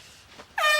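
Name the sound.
new horn being honked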